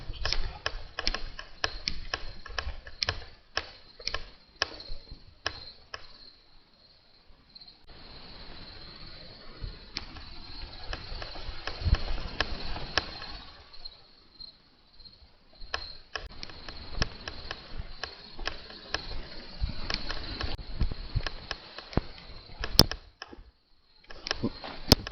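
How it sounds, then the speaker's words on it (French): Wires falling inside a lamp make a long run of dry, irregular ticks and light tapping clicks, sometimes dense and sometimes sparse, close by and fairly quiet, with faint low rumble underneath. "c'est dans ma lampe. C'est les fils en fait qui tombent."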